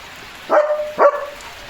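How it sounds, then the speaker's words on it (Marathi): A dog barks twice at rainwater pooled outdoors during rain, two sharp close barks about half a second apart over a soft steady patter of rain. "पाणी पाणी वात आहे पाण्याला भुंकतोय"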